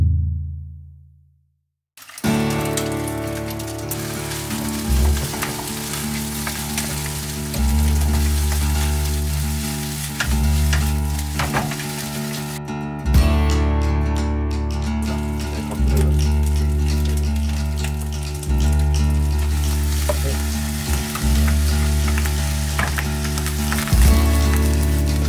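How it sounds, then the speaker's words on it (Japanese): Fried rice made with egg and instant noodles is stir-fried in a pan, a steady loud sizzle lasting over twenty seconds, broken by repeated rhythmic scraping and tossing strokes after a brief silent start. "じゃあ、チャーハン炒めていきたいと思います。"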